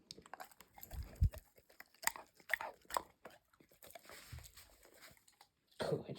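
A Newfoundland dog chews a treat close by, with soft irregular crunches and wet bites, fairly faint, followed by a short louder burst at the end.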